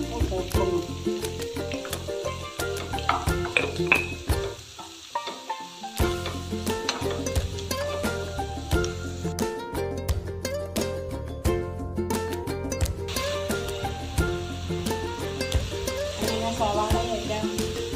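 Chopped onion with salt sizzles steadily in a pan, a close, continuous frying hiss broken by clinks and scrapes of stirring, with a brief lull partway through.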